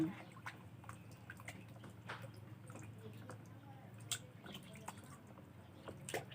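Pumpkin pieces being washed in water while steamed pumpkin is prepared, soft drips, squishes and splashes scattered over a low steady background hum, fairly quiet and close.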